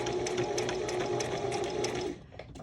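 A sewing machine zigzag-stitches down the edge of a lace craft page, running as a steady close whirring buzz for about two seconds and then stopping abruptly.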